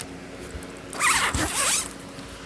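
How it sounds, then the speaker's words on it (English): A camping tent's zipper is pulled open, two quick rasping zips close up in a quiet setting with no talking. "Open up the zipper."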